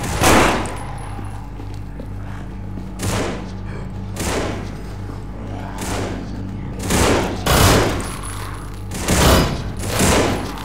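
Automatic gunfire in the zombie shooter No More Room in Hell, loud bursts of rapid shots recurring roughly every second or two, close and alone with no talk.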